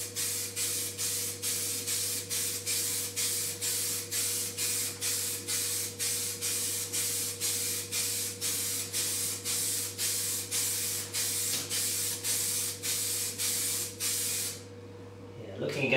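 Heavy coat of dye sprayed onto a DeLorean dashboard in rapid repeated hissing bursts, each short pulse close and loud, continuing steadily with a faint low hum beneath before stopping near the end.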